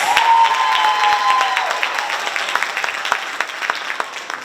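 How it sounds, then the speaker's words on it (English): An audience applauds at a school Black History program, dense clapping with faint cheering that starts strong and gradually thins out as it trails off. "Let's give Roger one more round of applause"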